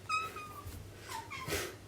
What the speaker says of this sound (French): Il y a un petit chat qui est là, qui lui aussi a envie de s'exprimer.